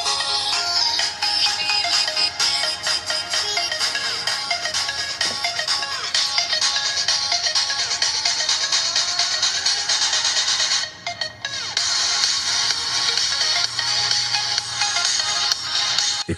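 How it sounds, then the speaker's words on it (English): Phone audio plays through the small built-in speaker of a Kospet Tank M3 Ultra smartwatch, a continuous bright, thin stream of sound that drops out briefly near the end. "Now, let's assess the quality of the Kospet Tank M3 Ultra speaker."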